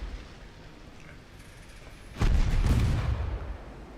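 Torpedo hits detonate against a warship in a naval battle game, a sudden heavy blast followed by a rumbling, crackling roll that fades over a couple of seconds, with no talk.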